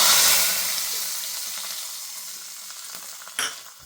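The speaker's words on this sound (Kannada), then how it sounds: "ಈಗ ಇದಕ್ಕೊಂದು ಒಗ್ಗರಣೆ ಮಾಡುವ." Spices for a South Indian tempering hiss loudly as they hit hot oil, the sizzle starting strong and gradually fading, with a short stir or clatter near the end.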